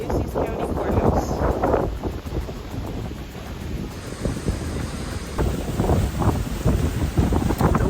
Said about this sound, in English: The wind just loves to blow here in Corpus